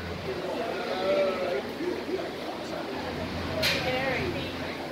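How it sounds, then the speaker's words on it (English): Goats bleat in the goat section of a county fair, a few wavering calls rising over a steady crowd murmur and voices talking nearby, with one brighter bleat toward the end. "In the goat section now."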